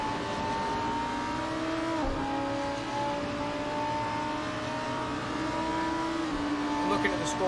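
GT race cars lap Silverstone in a racing video game at an esports final, with a steady high engine drone and pitch shifts at gear changes, running continuously beneath a commentator's voice.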